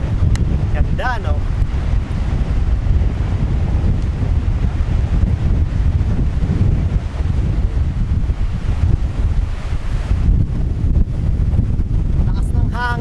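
Strong seaside wind buffets the microphone at a coastal viewpoint in the northern Philippines, a loud, constant low roar with rumbling gusts throughout, and voices briefly heard through it.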